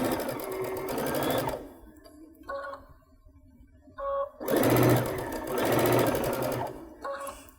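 A Baby Lock sewing machine fitted with a Chenille Foot stitches fabric strips along curves in a fast, even whir, stopping and pivoting so the runs come in starts and stops of varying length; close and clear, with no talk.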